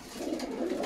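An Armenian pigeon coos nearby in a soft, rolling low call, brief and faint, with no voices over it.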